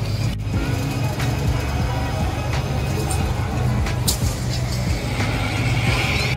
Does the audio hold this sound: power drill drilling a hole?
no